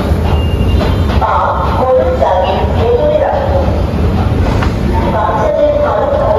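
A metro train rumbles steadily with low mechanical noise, faint squeals and rattling, while people chatter nearby.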